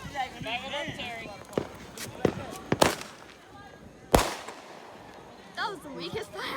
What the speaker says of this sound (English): That was the weakest firework ever.